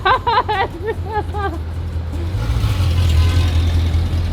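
A loud performance car engine, an Evo 5 or slant nose 997, rumbles low and steady, swelling louder in the second half after a few seconds of speech over it.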